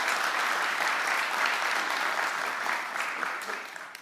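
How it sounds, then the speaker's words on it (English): Conference audience applauding in a hall, a sustained even patter of many hands clapping at moderate distance, slowly thinning out near the end. "please give them an applause for making this possible"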